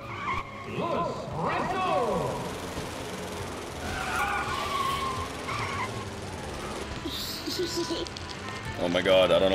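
Go-karts racing and skidding in the Planet Coaster video game, engines buzzing and tires squealing through repeated slides, with a person talking over the game sound throughout.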